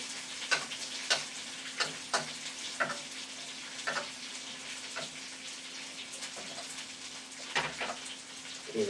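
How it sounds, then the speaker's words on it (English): Butter melting in a pan on a stovetop gives a soft, quiet sizzle, punctuated by a regular series of sharp scraping taps from a utensil moving across the pan. "We're going to put this on the stove here and just get it to start melting the butter."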